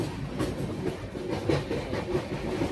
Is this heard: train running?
yes